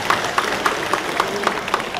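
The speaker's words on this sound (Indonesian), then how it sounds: "Kita beri tepuk tangan yang meriah." Audience at a state palace reception for elderly delegates bursts into steady applause, a dense patter of clapping that swells evenly with a few sharper claps standing out.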